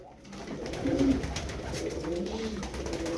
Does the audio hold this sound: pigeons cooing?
yes